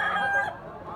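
A stag, a young rooster for sale, lets out one close, loud crow lasting about half a second, then quiet follows.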